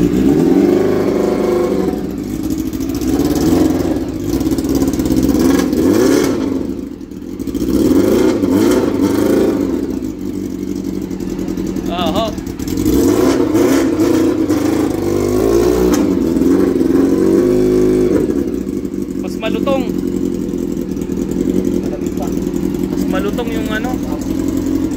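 Kawasaki GPZ400 motorcycle fitted with an aftermarket exhaust pipe, its engine droning and revving up and down nearby while people talk over it.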